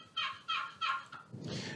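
A person vocally imitates a turkey hen's yelp, a run of four rasping two-note calls followed by a longer, breathier call, close and clear with no other sounds.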